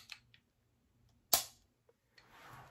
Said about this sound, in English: Take it and you just pull the trigger.